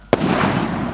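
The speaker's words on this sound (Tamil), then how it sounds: "ஒர்த்தான ஒரு 3 வெடின்னு சொல்லலாம் இந்த பாக்ஸ்" A box of Sivakasi export firecrackers goes off with a sharp, loud crack, followed by a dense, sustained crackling roar that continues to the end.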